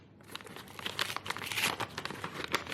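Cardboard and paper packaging from a YouTube package being torn open close up, with rapid crinkling, ripping and rustling bursts growing louder over a few seconds.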